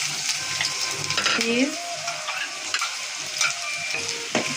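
Onion frying in a pan with leafy greens, potato and dried shrimp, a continuous close sizzle broken by spatula scrapes and a few sharp metallic clicks, without talk.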